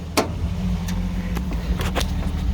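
An old car's engine idles at about 650 rpm, a steady close low rumble with a few sharp clicks and taps over it.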